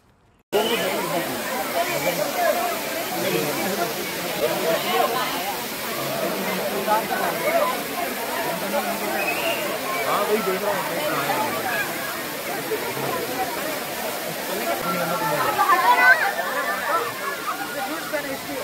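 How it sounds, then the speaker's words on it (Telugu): Jhari waterfalls in Chikmagalur pour from a height with a steady broadband rush and hiss, continuous and fairly loud throughout, with faint crowd voices mixed into the roar. "చూడండి ఎంత విజువల్ వండర్గా ఉందో, అద్భుతంగా ఉంది కదా ఆ వాటర్ ఫాల్స్ పడుతుంటే అంత హైట్ నుంచి"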